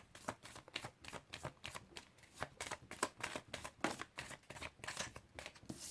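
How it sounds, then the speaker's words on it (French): Tarot cards being shuffled and drawn by hand, a close series of quick riffling and flicking bursts in an uneven rhythm, quiet and without talking. "Donc je vais tirer 8 cartes."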